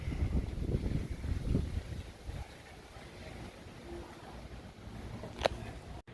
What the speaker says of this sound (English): Wind starting to pick up a bit.